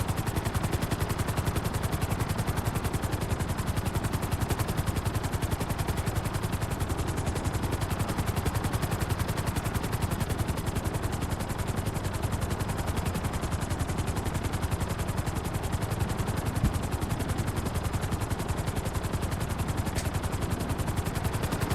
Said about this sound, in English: He's got a different helicopter. I would say he's got a Savage or something like that.